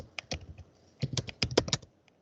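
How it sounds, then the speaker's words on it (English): Typing on a computer keyboard in a Windows 7 virtualization lesson: two short bursts of clicky keystrokes, close and fairly loud, separated by a brief pause, with no talk. "Typing is very difficult, but I will try."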